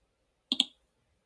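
A computer mouse clicks twice in rapid succession while selecting a spreadsheet cell, crisp and close in an otherwise silent setting.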